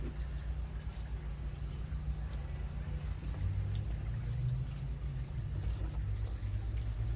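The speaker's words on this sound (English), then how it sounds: "So I can add a little bit more water to this mix." Water is poured steadily into a potting soil mix, making a soft, continuous trickling wash over a low background hum, with no voices.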